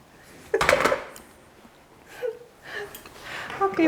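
Plates are taken from a kitchen cupboard with one sharp ceramic clatter, followed by softer clinks and knocks, fairly close, as quiet voices murmur nearby.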